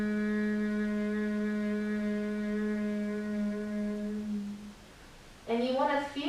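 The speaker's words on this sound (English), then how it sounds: "you'll close the mouth, and the tongue is pressed gently against the back of the top teeth, and you'll begin to create a humming sound" Closed-mouth humming with the tongue pressed gently against the back of the top teeth as a stress-management breathing exercise: one long, steady, low-pitched drone lasting several seconds, quiet and alone, ending with a brief voice.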